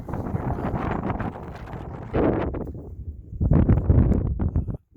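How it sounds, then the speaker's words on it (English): Outdoor wind picking up and buffeting the microphone in gusty, rumbling bursts, with a short lull in the middle before a stronger, louder gust returns and cuts off abruptly. "the wind's starting to kick up"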